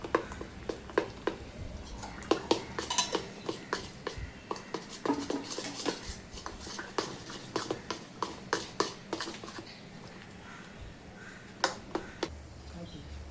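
A spoon mixes chopped onion and green chilli together in a bowl, giving a run of sharp, irregular clicks and taps against the vessel with soft squishy scraping between them, close and fairly steady throughout.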